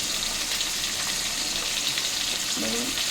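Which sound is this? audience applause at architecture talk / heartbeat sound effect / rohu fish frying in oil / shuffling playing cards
rohu fish frying in oil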